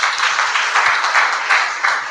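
A church congregation at a Sunday service claps together in a steady, even rhythm, dense and loud, filling the hall with no voices above it.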